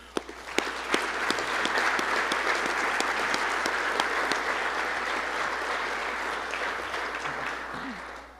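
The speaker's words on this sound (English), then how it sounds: "I want to give a round of applause to the Munsell family for that." A banquet audience at a college football dinner breaks into sustained applause, with sharp individual claps standing out at the start, then a steady, full roll of clapping that tapers slightly toward the end.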